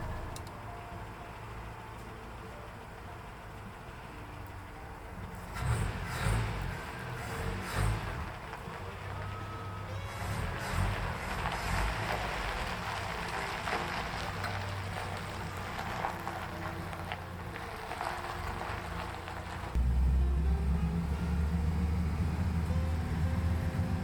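A Land Rover Series III engine runs after ten years of standing, a steady low idle with a rougher, louder stretch in the middle and a heavier, fuller rumble toward the end.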